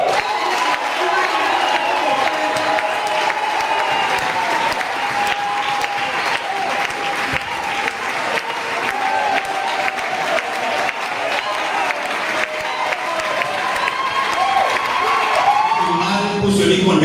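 A church congregation at an Easter service applauds and cheers for Jesus, sustained loud clapping with shouts and whoops from the crowd throughout, easing slightly near the end.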